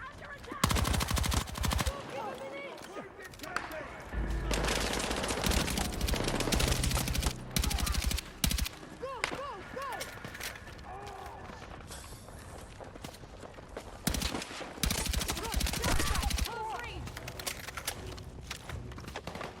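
Gunfire in the Battlefield 6 campaign comes in repeated rapid bursts and single shots over a din of combat noise and music, with spoken lines heard between the volleys.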